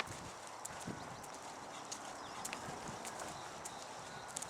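Hooves clip-clop in a steady trotting rhythm, fairly faint and distant, with soft regular beats continuing throughout.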